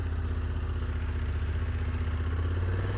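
A 2024 Honda Africa Twin DCT adventure motorcycle rides off-road with a steady, throbbing mid-pitched engine drone, loud and close, under continuous wind and rattling clatter.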